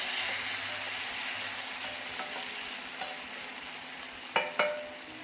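Finely chopped tomato sautés in a pan with lightly browned onion for a cauliflower and pea curry, giving a constant, fairly faint sizzle with a couple of sharp stirring clacks near the end.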